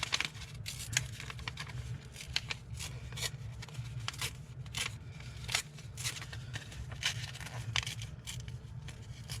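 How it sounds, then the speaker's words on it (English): Paper is torn by hand around a printed Baltimore Oriole image, with many short, faint rips and crinkles coming in quick irregular bursts over a low background hum. "I'm going to fussy tear around him."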